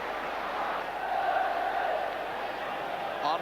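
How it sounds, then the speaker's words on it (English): A distant football crowd from the 1977-78 season gives a broad murmuring roar of applause and cheering, swelling slightly in the middle and staying fairly faint, like stadium noise heard from afar. "And the applause for Roach."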